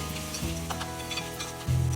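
Capsicum and tomato sauté with chicken on a hot tawa, giving a steady low sizzle with a soft scrape of stirring and a louder hiss near the end.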